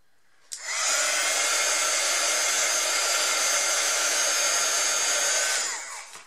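A hair dryer switches on with a click and blows a loud, steady, close whoosh for about five seconds over a small scrapbook puzzle card, then winds down.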